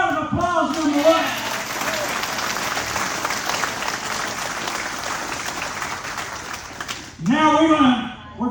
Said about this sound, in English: Give them a round of applause, number one.